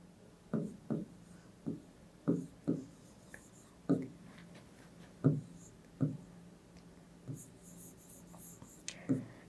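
Chalk or marker strokes on a classroom board while a table is drawn, with short scratchy taps and swipes arriving in an irregular rhythm, close and fairly quiet.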